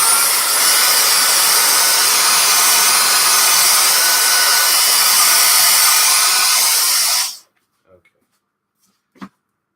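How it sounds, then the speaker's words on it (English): A loud vacuum cleaner sucking up shattered glass roars steadily up close for several seconds, then cuts off abruptly, leaving near silence and a couple of small clicks. "I'm going to grab a vacuum real quick just to suck up all this"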